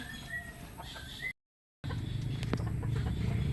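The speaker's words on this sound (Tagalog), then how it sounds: "Ano po to, mga manok?" Chickens cluck on a rural farm lot, with faint calls and scattered clucks over background noise, cut by a short silent gap before clucking and scuffing continue.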